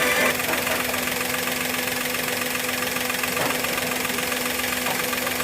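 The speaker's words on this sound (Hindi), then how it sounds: "सॉकेट निकालने के बाद यहाँ पे इंजन वाइब्रेशन हो रहा है" A Maruti Suzuki Wagon R CNG engine idles with an injector socket pulled off to check a cylinder misfire, giving a steady mechanical hum with a rough, faintly knocking vibration and an even drone close by.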